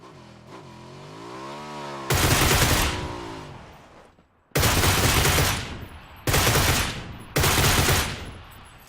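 Gunfire from the video game PUBG, heard in several loud full-auto bursts of varying length with short gaps between them, coming after a quieter stretch of engine and background game noise at the start.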